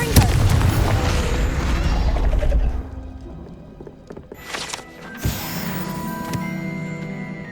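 In the game Hogwarts Legacy, the Confringo blasting spell sets off a loud, deep boom that rumbles and fades. A quieter crash and a few smaller bursts follow.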